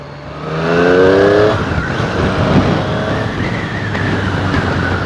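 A Triumph Street Triple 765 R motorcycle engine pulls hard while riding on a road in Argentina, a loud, steady rising drone with a sharp revving sweep near the start and sustained engine noise throughout, with no talk.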